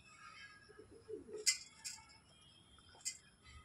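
Adult Lokka pigeons coo softly in a short, low murmur, followed by a few sharp ticks and faint chirps in a quiet space, with no one speaking.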